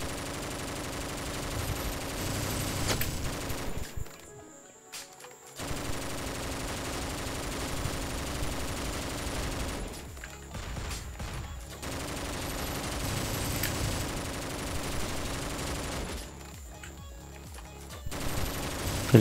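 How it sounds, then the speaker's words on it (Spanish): Rapid automatic gunfire from the top-down shooter OTXO comes in long sustained loud bursts, cutting out briefly between volleys, with layered game effects and no speech. "Que le estoy cagando a tiros."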